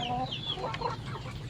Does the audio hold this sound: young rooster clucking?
yes